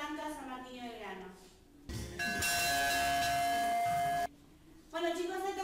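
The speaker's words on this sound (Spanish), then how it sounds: "se tocó la campana." A school bell rings for about two seconds with a steady, loud electric buzz-tone, with people talking before and after it.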